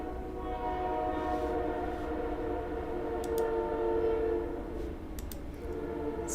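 A sustained train horn drones steadily with layered harmonic tones over low rumbling, fairly distant, with brief clicks near the end.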